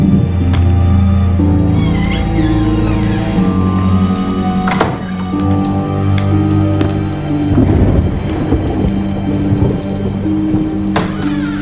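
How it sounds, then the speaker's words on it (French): A heavy thunderstorm with steady loud rain and deep rolling thunder rumbles, punctuated by a couple of sharp cracks, continuous and close throughout. "Arrête, Amanda, c'était que l'orage."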